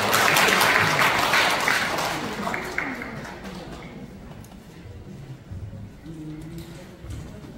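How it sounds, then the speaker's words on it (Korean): Applause at a community social security council training session in Pocheon, a dense burst of clapping from a seated audience that fades gradually, with a few voices coming through underneath. "박수로 받아주시기 바랍니다"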